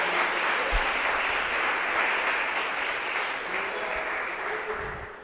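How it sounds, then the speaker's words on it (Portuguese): A church congregation applauds steadily at a church anniversary service, a broad wash of clapping that holds without pause and eases slightly toward the end. "Dê uma salva de palmas, diga aleluia."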